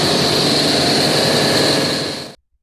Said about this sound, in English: The engine's high-frequency exhaust note was particularly problematic